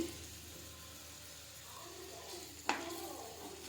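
Onions and dried red chillies fry in a pan for a chicken gizzard curry, a soft low sizzle with a short clatter of stirring near the end.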